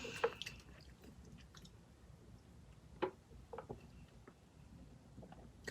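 Faint, close-up crunching and chewing of Korean convenience-store drinking snacks eaten with beer, with a few sharper bites standing out over a quiet room and no talking.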